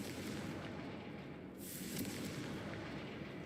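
A Confringo spell explosion in the Hogwarts Legacy video game bursts as a dense, loud rumbling blast, with a brighter flare about halfway through over continuous booming noise.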